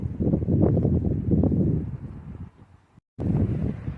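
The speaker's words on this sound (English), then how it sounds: "it is quite windy, so I may need to record all of this audio again" Wind on a UK allotment buffets a microphone with a loud, low, rumbling roar that gusts and eases, cuts out briefly, then returns.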